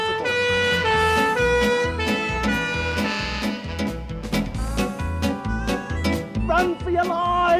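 A loud wailing emergency siren rising and falling close by, with traffic rumble beneath and no speech.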